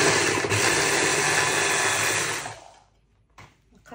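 An electric chopper whirs steadily at close range as it blends chopped pumpkin, running loud and continuous for about two and a half seconds before cutting off, followed by a few faint handling clatters.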